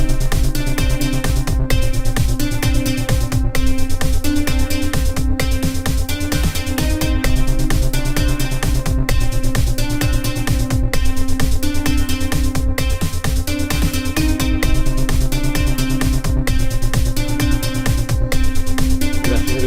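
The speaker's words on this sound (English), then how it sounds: "You can hear the metronome there as well, plodding along to it" Dense full-band music made in FL Studio 20 plays continuously, with regular ticks of a metronome marking the beat throughout, no talking over it.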